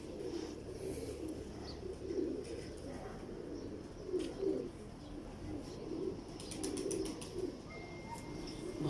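Pigeons coo softly in repeated low, throaty phrases, several birds overlapping at moderate distance with faint chirps, a quiet, steady backdrop with no talk.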